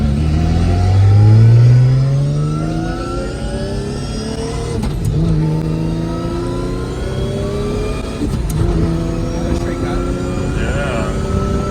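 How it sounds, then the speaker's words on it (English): A Nissan Skyline R32 GTR with a Samsonas sequential gearbox drives and revs, its engine note rising through several gears with shifts in between, close and steady from inside the car. "let's see how this thing drives"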